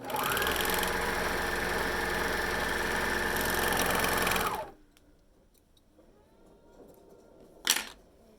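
A sewing machine stitches a 1/2 inch seam on the folded short ends of a tee pocket piece, running loud and steady for about four and a half seconds before stopping, followed by quiet handling and a brief sharp click.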